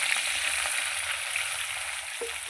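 Potatoes and onions fry in a pan after cumin tempering, giving a steady, close, even sizzle that runs throughout with a soft stir near the end.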